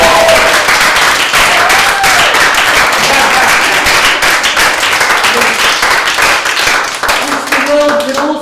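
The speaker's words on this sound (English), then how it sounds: "We're giving a round of applause for Chris Ivans Sevi." A live audience bursts into sustained applause, a dense crackle of many hands clapping at close range, with voices and other sounds mixed into it.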